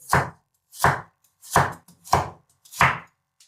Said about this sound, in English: Let's cut it diagonally.